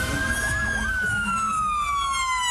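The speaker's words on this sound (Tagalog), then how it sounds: "Eksaktong alas 2 ng hapon pagtunog ng sirena" A siren sounds for a nationwide earthquake drill at the University of Mindanao, a long wailing tone that rises and then slowly falls, heard at moderate distance over a low background rumble.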